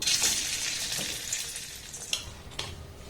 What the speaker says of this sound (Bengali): সমস্ত পিঠেগুলোকে আমি একই রকমভাবে ভেজে নেবো